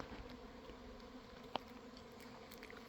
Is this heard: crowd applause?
no